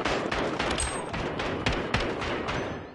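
Rapid bursts of gunfire from a gun fired from the hip in the shooter game Modern Warfare, with loud overlapping shots and thuds packed densely across the whole moment.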